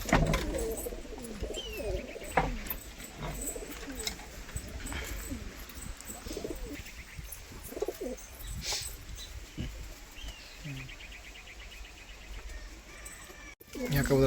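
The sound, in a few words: pigeons cooing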